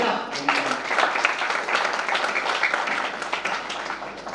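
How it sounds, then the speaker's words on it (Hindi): Audience at a Hindi poetry gathering in Bareilly breaks into hearty applause, a thick, continuous wash of clapping from the crowd with a voice briefly audible at the start. "मैं चाहता हूँ एक बार उन्नति के लिए एक बार जोरदार तालियां"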